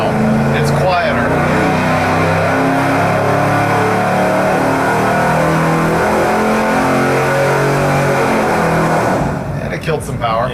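An engine on a test stand revs through a muffler with a sustained, loud, deep exhaust roar that holds steadily for several seconds before dropping off, while voices talk over it.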